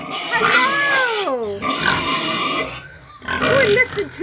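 Pigs squeal and oink loudly nearby, a few drawn-out cries followed by a shorter grunting burst after a brief pause.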